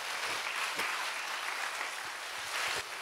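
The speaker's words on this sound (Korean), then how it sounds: "박수로 영광 돌리겠습니다" A congregation at a church prayer-retreat gathering gives sustained applause after a prayer, an even wash of many hands clapping, moderately loud and continuous, with a few sharper claps standing out.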